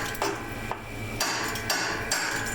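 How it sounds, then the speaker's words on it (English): A hammer taps repeatedly on the rusty steel mower deck of a Kubota G4200 garden tractor, giving several sharp metallic knocks spaced about half a second apart over a low background hum. "I just want to take a hammer and make sure this isn't one just solid piece of rust right here."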